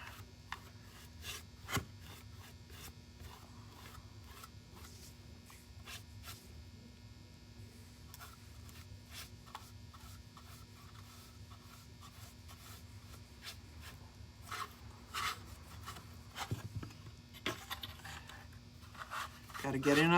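A paintbrush drags paint along a wooden Christmas decoration, producing repeated close scratchy rubbing strokes in an irregular rhythm, with quiet moments between strokes and a faint steady hum underneath.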